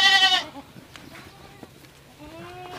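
A goat on a Rajasthan goat farm gives one loud, close bleat, then quieter farm sounds follow, with a second fainter bleat and people talking nearby.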